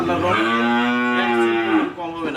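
A Holstein Friesian heifer calf lets out one long, loud, close moo that rises and then tails off, with no voices around it.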